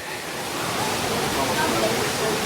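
Natural water flowing at Chakra Theertham in Tirumala makes a steady, broad rushing wash that holds close and fairly loud throughout, with no other sound standing out.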